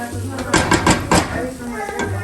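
Risotto is stirred in a pot, a spoon scraping and clinking against the metal in several close, uneven strokes.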